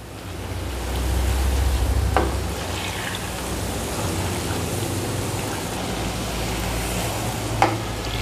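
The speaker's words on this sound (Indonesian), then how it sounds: "Ini minyak udah panas, langsung kita goreng." Peanuts deep-frying in hot oil, a steady close crackling sizzle like rain, with a couple of sharp clicks from stirring and no talking.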